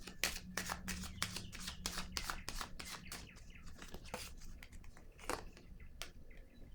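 Tarot cards are riffled and shuffled in a close, quiet series of crisp flutters and snaps, slowing into a few separate handling clicks near the end.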